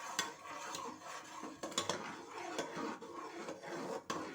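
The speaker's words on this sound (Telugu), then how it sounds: "ఈ విధంగా కలుపుతూ ఉండాలి." A pot is stirred while cooking for crispy arisalu sweets, with faint, close scraping and rubbing strokes and occasional soft knocks of a utensil against the vessel, unhurried and uneven with no talking.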